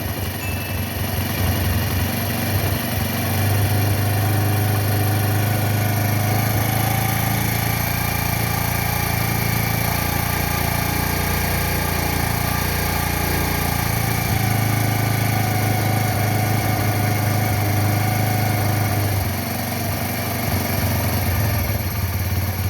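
An old-model Bajaj Discover motorcycle idles up close during mileage screw adjustment, a loud, steady engine putter with slight shifts in revs.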